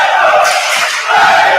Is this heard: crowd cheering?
yes